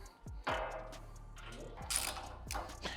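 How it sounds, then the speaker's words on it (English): A screw is driven through the top of an FJ Cruiser Prinsu roof panel, a 2007-2014 fitting, as a whirring driver runs in several short bursts with ratcheting clicks. It sounds close and moderately loud. "and then just run your screw in through the top"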